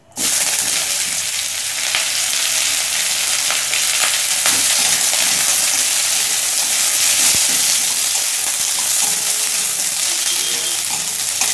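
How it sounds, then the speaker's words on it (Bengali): Chopped onions fry in hot mustard oil with whole cumin and bay leaf for a tilapia fish curry, making a loud, continuous crackling sizzle close up for the whole stretch, with no talking. "পেঁয়াজ হালকা করে ভেজে নেবো।"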